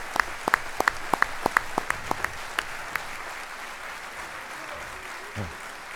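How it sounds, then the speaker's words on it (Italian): Applause at a political rally in Bergamo greets the city's mayor, starting as a scattered run of sharp claps that soon blurs into a steady, moderate wash of clapping from a crowd. "Un applauso al sindaco in carica e rinnovato di Bergamo, Franco Tentorio"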